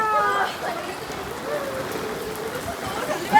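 Steady rain falls outdoors in an even, close hiss across the whole stretch, with faint voices murmuring underneath.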